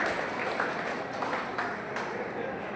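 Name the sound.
audience applause at an ITI job placement event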